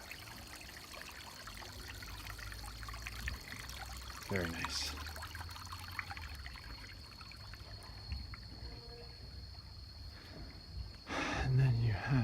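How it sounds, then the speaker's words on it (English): Water trickles downhill at a sound temple at Pyramid Yoga on Koh Phangan, a soft continuous flow behind a voice and a steady high tone, rising a little louder near the end. "the water flowing downhill."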